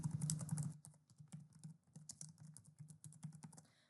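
Steady typing on a computer keyboard as a name is entered, a quick run of close, crisp key clicks with short pauses between bursts, heard alone in a quiet room.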